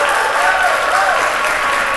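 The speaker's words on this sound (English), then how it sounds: "You need to give yourself another round of applause." A conference audience at the closing plenary of the 2015 National Rosenwald Schools Conference breaks into loud, sustained applause, a dense wash of many clapping hands with no voices standing out.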